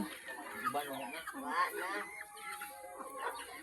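Chickens cluck and chatter nearby around a rural home yard, several soft, irregular calls overlapping at low level, with faint background noise throughout.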